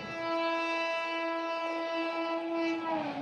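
A long passenger train on an overnight run toward Nagpur sounds a steady, loud horn that holds for about three seconds and dips slightly in pitch at the end, with no one speaking.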